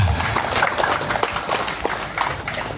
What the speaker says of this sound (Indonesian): Mari kita tepuk tangan buat mereka dulu.